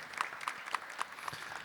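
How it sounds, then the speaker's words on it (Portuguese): Applause from a church congregation, fairly faint and distant, with scattered claps over a steady wash of noise. "vamos acolher com uma salva de palmas"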